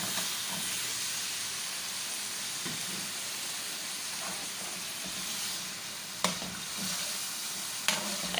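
Potatoes, just lifted from salted water, fry with a steady sizzle and hiss in a pan while being stirred, with a couple of sharper scraping clatters near the end; no voices.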